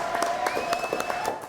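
Studio audience applause on a French talk show, a short burst of clapping with a steady ringing tone running through it and a voice over the top.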